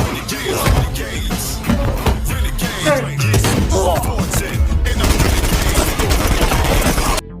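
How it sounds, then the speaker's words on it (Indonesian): Gunfire in a fierce shootout between armed groups in an action film, dense bursts of shots and bangs crackling almost nonstop at close range, with a brief lull near the end. "Duran dan kelompoknya muncul, sehingga baku tembak sengit"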